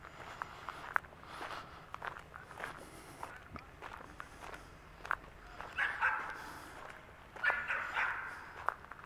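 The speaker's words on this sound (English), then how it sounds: "Somebody's dog is getting excited." An excited dog barks in scattered bursts at a dog park beside a walking trail in late fall, fairly distant and soft amid footsteps and outdoor ambience.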